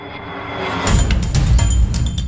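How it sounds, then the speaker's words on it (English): A helicopter in the Roblox Rainbow Friends video game, a steady loud rumble and whir that swells after a quieter start and keeps going to the end. "Helicopter."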